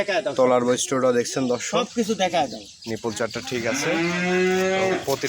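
A Holstein Friesian heifer moos loudly and repeatedly at close range, long drawn-out lowing calls one after another.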